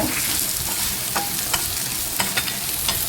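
Small and large onions fry in a pan with a loud, constant sizzle while a spoon scrapes and stirs in several sharp clicks, close up and with no speech.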